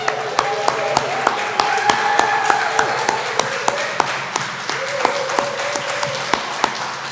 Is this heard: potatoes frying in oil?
no